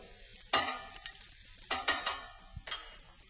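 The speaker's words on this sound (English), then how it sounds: "As the mushrooms begin to take on a little blush of color, I'm going to add the garlic" Garlic tossed into sizzling mushrooms in a hot pan, stirred with a few sharp scraping bursts over a steady low frying hiss.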